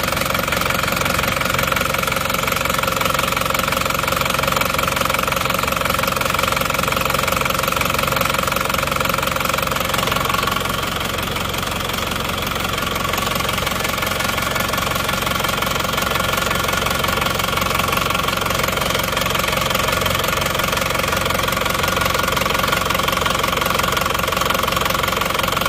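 Isuzu Panther diesel engine running cold with worn piston rings, a steady loud knocking idle with rough mechanical clatter throughout, dipping slightly midway.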